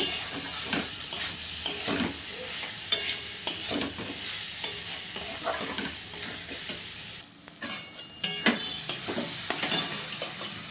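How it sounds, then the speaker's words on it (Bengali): Cumin, coriander and Kashmiri chilli spice paste frying in a pan for ghugni, a steady sizzle broken by rhythmic scraping and stirring strokes with occasional clinks against the pan, close and fairly loud, with no talking. "জিরে গুঁড়ো ধনে গুঁড়ো লঙ্কা গুঁড়ো কাশ্মীরি দিয়ে দিলাম ভালো করে কষিয়ে নেব"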